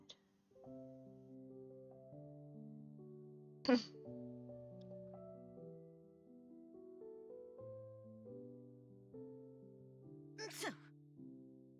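A person sneezes twice, sharp and brief, over a soft steady melodic music bed in the Paralives life-simulation game, the second sneeze coming several seconds after the first.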